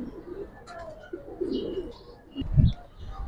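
Pigeons cooing close by in a loft, a few soft low coos with faint chirps, ending in a louder burst.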